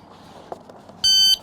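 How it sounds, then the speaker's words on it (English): A shot timer gives a single loud electronic start beep, about a third of a second long, near the end of a quiet stretch at an NRL22 rifle match stage shot prone from bipod and rear bag. "timer goes beep"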